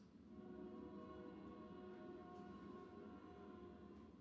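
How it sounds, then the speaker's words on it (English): A train passes by, heard as a steady, sustained rumble with tonal hum and a faint horn- or siren-like drone throughout, moderately loud and continuous with no talk over it. "That's a train."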